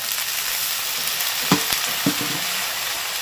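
Spices frying in a pan, including ground cumin for a light mango and fish curry, give a steady close sizzle, broken by a brief louder splutter as a little water is added.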